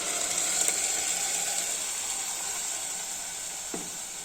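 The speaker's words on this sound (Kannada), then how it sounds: "ಈಗ ನಾನು ರುಬ್ಕೊಂಡಂಥ ಮಸಾಲೆನ ಆ್ಯಡ್ ಮಾಡ್ತಾಯಿದ್ದೀನಿ." Ground masala paste sizzles in a pan with fried onion and curry leaves, a steady close hiss that eases slightly over time, with one brief scrape near the end.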